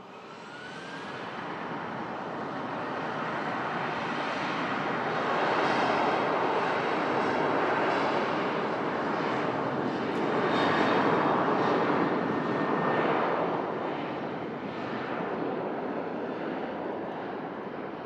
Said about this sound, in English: Virgin A350 pushback for Las Vegas